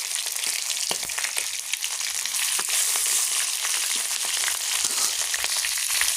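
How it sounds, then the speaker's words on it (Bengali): A fish head frying with panch phoron in plenty of hot oil, a steady close crackling sizzle with scattered sharp pops running throughout, no voices. "পাঁচ ফোড়ন দিয়ে দিলাম তো এর সঙ্গে আমি মাথাটা দিয়ে দেবো ভাজা হয়ে যাবে"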